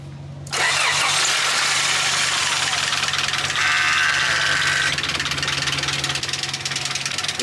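A Honda Integra engine cranks and starts after a head gasket job. A short starter whir gives way to a loud, steady running engine with a rough, buzzy tone that carries on to the end, heard up close, with no talking.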